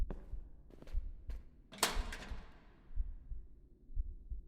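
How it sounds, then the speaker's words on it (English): Muffled, low heartbeat thumps pulse irregularly in the Japanese horror video game Footsteps Terror, broken by one louder, sharp crash that rings out and slowly fades. "I hear heartbeat sounds."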